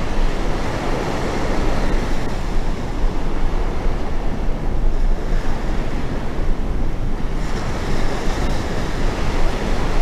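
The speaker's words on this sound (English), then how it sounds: "Got my back into the wind." Strong wind and steady ocean surf roar together on the Oregon coast, a loud, constant wash with heavy wind buffeting against the microphone and no clear voices.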